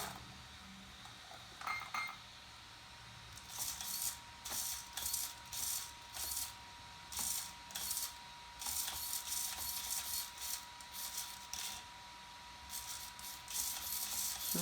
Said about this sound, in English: You can see the gear turning here.